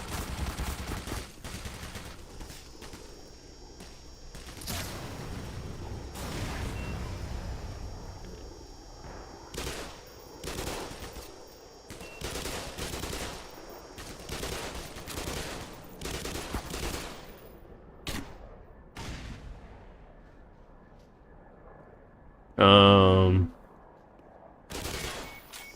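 Turret gunfire in the game Black Mesa comes as irregular bursts of shots over steady game noise, with one loud, sharp burst standing out near the end.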